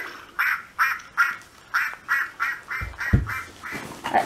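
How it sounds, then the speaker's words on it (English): A children's toy book with a built-in electronic duck sound plays a quick series of about ten bright, nasal quacks in a steady rhythm, close and fairly loud, with a few soft handling knocks near the end. "this is probably one of her favourite books because it quacks"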